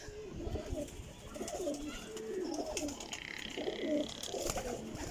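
Golden Jaunsiri female pigeon cooing in repeated soft, rolling phrases at close range, with a steady murmur of background noise throughout.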